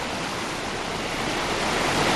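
A mountain stream running high with extra water rushes in a dense, steady, loud roar, close by and unbroken.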